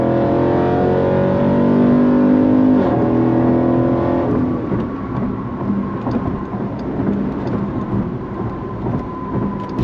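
A 2020 Jeep Grand Cherokee SRT engine revving hard under acceleration, a loud deep rising roar that climbs in pitch, drops briefly at a shift, then pulls again with a rumbling, rough exhaust tone.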